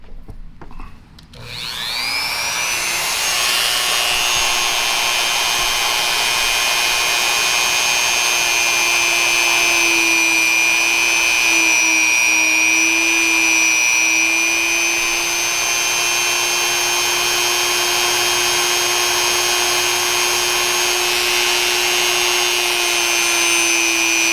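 A power tool spins up and runs continuously while polishing the metal of a Winchester Model 70 rifle, a loud, close, steady whine that holds its pitch with faint rubbing texture underneath.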